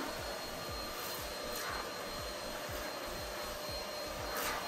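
A Tineco Pure One S12 cordless vacuum cleaner runs continuously with a steady high whine and airy roar, with repeated scraping pushes across the floor as it cleans during a household routine.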